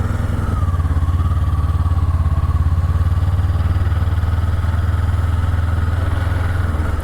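A Kawasaki gas/electric hybrid motorcycle, put in neutral, runs steadily with a loud, close, even idling engine drone and a light mechanical clatter, no talking over it.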